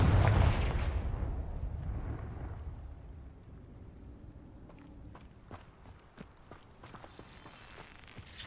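A Confringo fire spell explodes in Hogwarts Legacy with a loud, booming blast at the start that fades into a low rumble, followed by scattered footsteps and sharp clicks.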